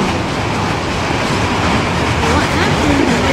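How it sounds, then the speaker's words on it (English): A model train runs over its track with a steady rolling rumble and clickety-clack, loud and continuous, with voices audible in the background. "The train went and flipped the switch after hitting the loop."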